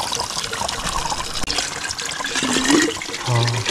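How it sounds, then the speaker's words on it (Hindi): Water pours from a cracked tap into a 3-litre bottle at a forest campsite: a steady, close gush and splashing trickle runs throughout, with a deepening gurgle as the bottle fills. "ये एक यहाँ से क्रैक हो रखा है नल भाई, और यहाँ से पानी आ रहा है नेचुरल प्योर वाटर"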